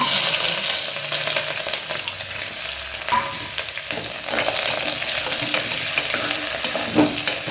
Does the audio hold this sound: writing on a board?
no